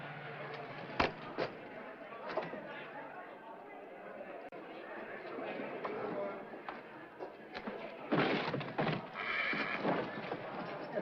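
Horses at an old rodeo neigh and whinny with loud sharp bursts, mixed with hoof clatter and crowd chatter in a noisy, dated-sounding recording.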